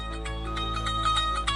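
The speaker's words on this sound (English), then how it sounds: "Phone call coming in." A phone ringtone sounds for an incoming call, a steady electronic tone pattern with a rhythmic pulsing beep repeating about every fifth of a second over a constant low hum.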